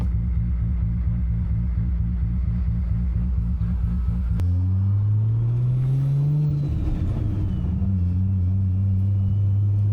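Turbocharged Toyota Supra rolling over a loose gravel road, a steady low engine rumble under constant tire crunch, with the engine note rising as it shifts and pulls away midway, close and loud throughout.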